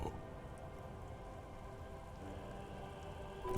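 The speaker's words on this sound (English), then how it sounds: "There are rain circles on water all around." Steady rain falling on water in the video game Disco Elysium, a constant even hiss with no breaks or changes, heard alone without voices.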